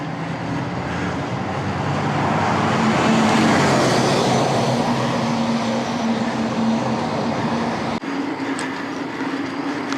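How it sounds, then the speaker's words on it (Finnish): A bus passing cyclists on a road in a newer part of an Italian town, a steady loud rumble of engine and tyre noise close by, lasting throughout with a brief dip near the end. "Ja nyt bussi joutuu taas meidät ohittamaan."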